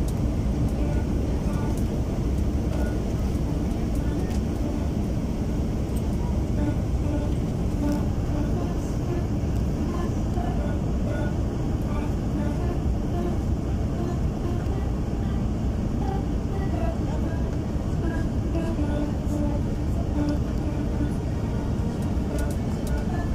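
An airliner on final approach into LaGuardia gives a steady, fairly faint broadband cabin roar and engine drone that holds evenly throughout, with no change in level.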